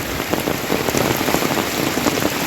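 Heavy monsoon rain pours down while road runoff rushes past, making a loud, continuous hiss and patter of drops on surfaces with a steady watery roar underneath, no talking.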